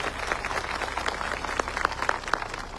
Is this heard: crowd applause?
yes